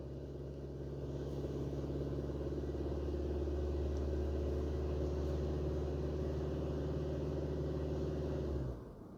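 A 2020 Honda CR-V AWD with a 1.5 turbo engine and CVT runs at a steady, low, even hum while its transmission warms up, then cuts off abruptly just before the end.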